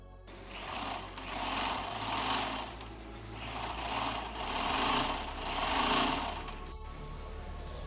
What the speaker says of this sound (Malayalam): ഇനി ഇതിലേക്കുള്ള വള്ളി നമ്മൾ തയ്ച്ചു കൊടുക്കാൻ പോവാണ്.